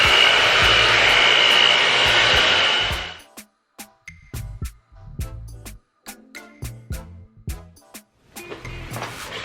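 A blow dryer on a higher heat setting roars loudly for about three seconds and then cuts off, leaving scattered clicks and handling noises.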